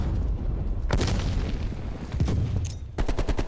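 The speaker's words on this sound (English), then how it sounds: "Oh, grenade!" A grenade goes off during a Black Ops Cold War beta match, with loud booming blasts and gunfire cracks crowding the whole clip, several sharp bursts standing out among constant battle noise.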